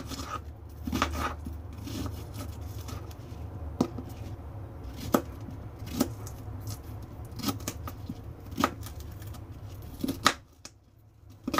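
Fruit being cut into pieces for a smoothie, a series of sharp knife taps and chops spaced irregularly over soft background handling noise, fairly close and moderately quiet.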